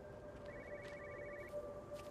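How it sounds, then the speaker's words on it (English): A telephone rings inside a house in the video game Everybody's Gone to the Rapture, a faint, rapid trilling bell that sounds for about a second amid a quiet ambient hum. "Oh, phone."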